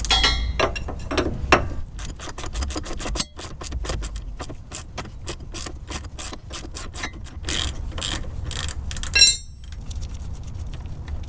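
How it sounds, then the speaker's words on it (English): Ratchet wrench loosening a 27 mm nut on a vehicle's leaf spring shackle bolt, a long run of close, sharp rapid clicks in bursts with metallic rattling of the tool and nut, briefly interrupted before clicking resumes. "So I'm going to loosen the bottom connection first that attaches the leaf spring to the shackle"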